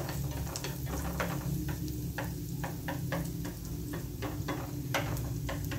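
Shallots frying in a pan give a steady, dense sizzle at close range, broken by repeated sharp clicks and scrapes of stirring, with no voices.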